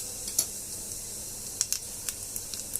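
Mustard seeds, cumin and asafoetida crackle in hot oil while tempering for dal wada: a soft continuous sizzle broken by a few sharp pops.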